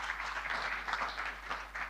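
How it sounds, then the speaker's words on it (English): Applause from an audience at the official opening of the 26th ATIDI Annual General Meeting, a steady dense wash of distant hand claps continuing throughout at moderate loudness. "Let's give him a round of applause, ladies and gentlemen."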